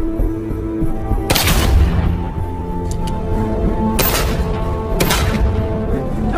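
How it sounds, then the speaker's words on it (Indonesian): Gunshots ring out during weapons training in a film, a few sharp loud blasts fired at irregular intervals over a dense background soundtrack. "Keesokan harinya John melatih Maria dalam menggunakan senjata untuk mempertahankan diri."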